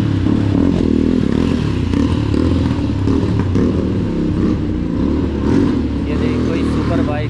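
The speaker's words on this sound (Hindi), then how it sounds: "ये देखिए कोई सुपर बाइक है काफ़ी आवाज" A loud superbike engine drones and rumbles steadily nearby on a Thamel, Kathmandu street at night, with a person talking over it and some clattering in the background.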